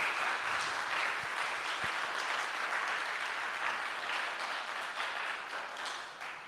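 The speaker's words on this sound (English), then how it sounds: "Let's give him a round of applause." Sustained audience applause at a Christian academy senior graduation ceremony in a chapel, a dense steady wash of many hands clapping that holds evenly throughout and tapers slightly at the end.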